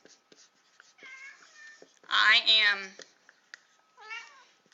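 A cat gives a few meows, a short one first and then a loud, drawn-out one, followed by a softer call, heard close amid a person talking.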